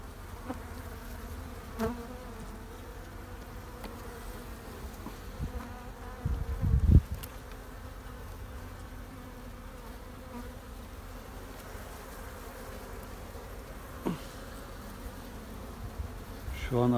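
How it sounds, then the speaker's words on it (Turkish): Honeybees hum steadily in the background during hive transfer, a soft sustained drone broken by a few thumps and handling noises, with occasional bees passing closer. "Şu an arı yarı salkımda tek tük uçanlar var."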